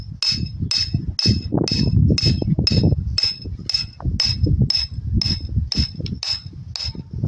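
A metal grounding rod is driven into soft, damp soil with steady, evenly spaced hammer blows, about two per second, each a sharp ringing strike over dull thuds.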